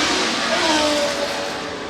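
A 1963-season Lotus BRM 24 racing car engine drones past at the Goodwood Revival, a steady mid-pitched rasp that rises slightly and then fades as it moves away.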